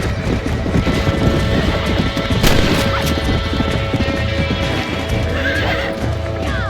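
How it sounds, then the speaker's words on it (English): A horse in Red Dead Redemption gallops with rapid, steady hoofbeats and a whinny, loud and close, mixed with crashing impacts and game ambience. "What is this horse doing?"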